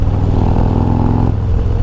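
A 2023 Harley-Davidson Road Glide Special with a Screaming Eagle Stage 2 upgrade cruises in fifth gear at 80 km/h on light throttle, giving a steady, deep engine drone that stays loud and even throughout.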